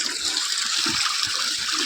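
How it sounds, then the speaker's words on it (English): Natural groundwater flows out from the side of the ground in a steady, close gushing rush, with light irregular splashes beneath the continuous hiss. "so that is the natural groundwater that actually come from the side"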